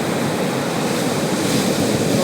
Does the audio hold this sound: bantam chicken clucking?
no